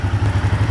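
A Royal Enfield Himalayan 450 motorcycle pulls away, its engine giving a loud, close, rhythmic thumping pulse throughout with no talk.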